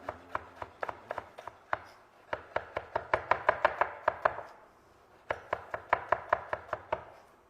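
Knife rough-chopping onion on a board: a close, steady run of crisp taps in quick bursts, briefly pausing before resuming at a brisk rhythm, with no talking.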